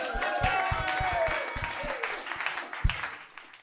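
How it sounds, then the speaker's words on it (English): Applause from a comedy club audience at a roast battle night, scattered claps and a few sharp nearby hand hits under crowd noise and some chatter, fairly close and uneven in loudness. "Give a round of applause,"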